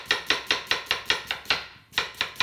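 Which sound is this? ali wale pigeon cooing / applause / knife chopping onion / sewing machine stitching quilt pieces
knife chopping onion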